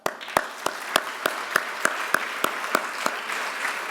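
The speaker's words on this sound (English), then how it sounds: "You got a lot of hand claps and smiles." Audience at a spring luncheon breaking into applause, with a dense patter of clapping hands and sharp, evenly spaced louder claps standing out in a steady rhythm across the whole stretch, fairly close.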